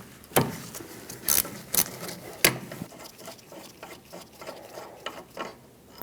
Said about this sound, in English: Once again, 14mm socket, remove them both.